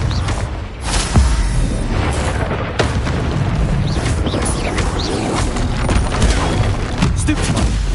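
Confringo spell explosions in the Hogwarts Legacy video game burst in a rapid, continuous barrage of loud booms and crashes, with a voice shouting over the combat.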